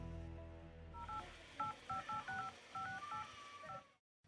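Someone dials a phone number for a call: a rapid series of distinct keypad tones, some held and some short, clear and close, with no talking.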